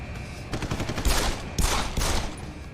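Gunfire in the video game Deus Ex: Human Revolution, with a few bursts of close, rapid shots separated by short pauses over a constant background hum.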